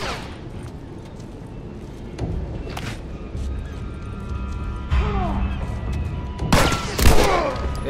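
Gunfire in The Last of Us sounds as a few scattered sharp shots and bursts, with louder cracks near the end, over a constant low game rumble and some background noise.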